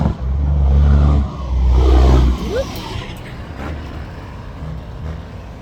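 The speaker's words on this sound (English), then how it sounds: "It's a loud truck." A heavy vehicle engine roars loudly and close for a couple of seconds, surging twice, then fades to a lower rumble as it moves away.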